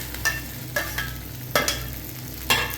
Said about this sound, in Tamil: நம்ம இப்போ ஃப்ரை பண்ணி வச்ச ப்ரான்ஸ் போட்டுக்கலாம்